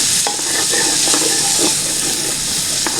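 Onions sweating in a pan, a steady close sizzle and hiss with occasional stirring clicks and scrapes throughout, no talking.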